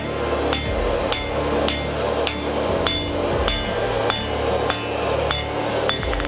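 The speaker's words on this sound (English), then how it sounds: "Being real nice and careful on hammering, hammer control." Sharp, ringing hammer blows strike hot metal while forging a medieval spike axe, in a steady rhythm about one per half second, loud and close with no talking.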